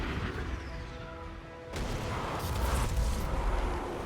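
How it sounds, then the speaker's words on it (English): Ikora's Nova Bomb in Destiny 2 erupts as a sudden loud burst, cutting in over quieter battle ambience and swelling into a sustained, rumbling roar that fills the rest of the moment. "Good work, Ikora. Nova Bomb."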